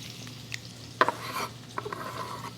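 Chopped onion and garlic get stirred in hot bacon drippings, a spoon scraping and clinking against the pan in a few sharp strokes over a soft, steady sizzle.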